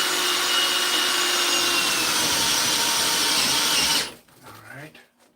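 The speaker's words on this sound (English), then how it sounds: "Well, I'm going to drill a hole here." A power drill bores a hole into a drywall-covered wall, a loud continuous high-pitched grinding whir held for about four seconds before cutting off abruptly, followed by faint handling noise.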